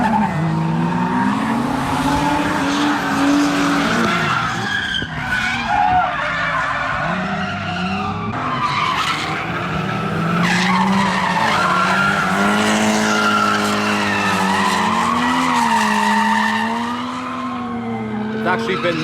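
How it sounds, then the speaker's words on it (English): Cars drifting at a drift day, tires skidding and squealing in long wavering screeches over roaring engines, loud and continuous, with voices mixed in. "I do hear a lot of drifting sounds."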